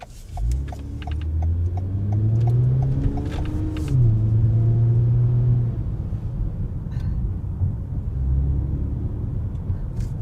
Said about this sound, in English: It has a little bit more rumble at lower RPM.